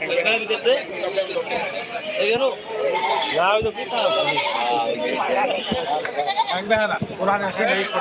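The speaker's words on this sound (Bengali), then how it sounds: "ক্রস ছাগলটা দেখুন" Goats, including a crossbreed, bleat in wavering, repeated calls close by at a village livestock market, mixed in with people talking over them.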